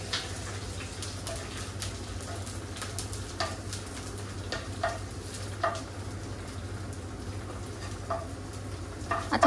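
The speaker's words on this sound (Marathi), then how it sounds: "एका साईडला आपला कांदा पण फ्राय झालाय." Onion frying in a pan while chicken biryani is made in a home kitchen in Dubai, giving a steady sizzle and crackle with scattered sharper pops, fairly loud and close, and no voices.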